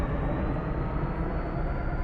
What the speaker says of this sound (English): Wow, that plane's loud.